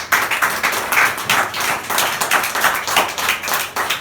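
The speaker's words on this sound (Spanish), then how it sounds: "Denle un aplauso a Jesús." A church congregation applauds steadily, many hands clapping in a dense, lively patter that stays loud and even throughout.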